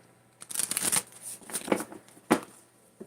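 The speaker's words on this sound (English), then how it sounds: "Let me just pull some cards" Tarot cards shuffled by hand for a card reading, several quick riffling bursts and soft slaps up close over about three seconds, with no talking.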